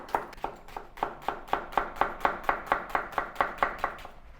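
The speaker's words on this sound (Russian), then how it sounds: "Я мелко нарезаю лук." An onion being finely chopped with a knife on a board, about eighteen quick, even, crisp chops in a steady rhythm, close and clear with no talking.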